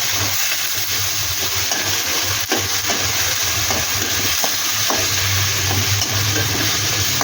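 Onion paste frying in a pan for a chicken curry, a loud, dense, continuous sizzling hiss close by, with one faint knock of a utensil partway through and no talking.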